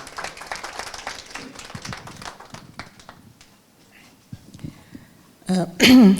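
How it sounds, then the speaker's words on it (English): Scattered clapping from an audience at a Women's Day celebration greeting a guest speaker, fading into quiet, followed by a few louder close thumps and rustles at the end. "So please, a round of applause for Romana Shoban."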